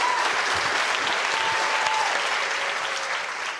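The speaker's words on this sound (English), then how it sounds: "Veer, big round of applause" Audience applause at a science talk about food, a loud, sustained burst of many people clapping close by, holding steady and easing slightly at the end.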